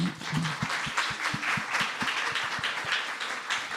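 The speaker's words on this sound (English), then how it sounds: "let's give a big round of applause for our..." A conference audience breaks into applause at the close of a panel talk, a steady patter of many hands with a few distinct louder claps, sustained throughout.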